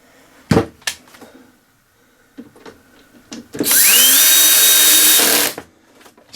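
A cordless power drill drives screws back into the plastic body of a Hayter 41 lawn mower: a few short clicks and handling knocks, then one loud, sustained whirring run of about two seconds that winds up in pitch before stopping.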